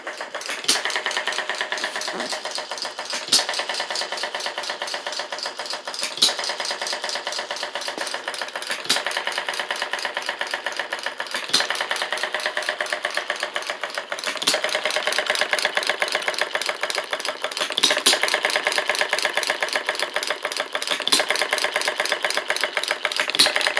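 A small homemade hit-and-miss engine runs steadily on Coleman fuel with a rapid, even chugging beat, close by and fairly loud throughout, with no talking.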